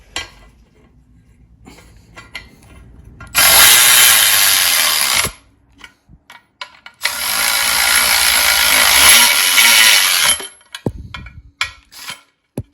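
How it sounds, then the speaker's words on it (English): A power tool ratchets bolts tight on a Jeep JK during 8-speed swap prep, in two long loud bursts of steady whirring separated by quiet, with a few short clicks and taps around them. "But yeah, I'm gonna tighten these up."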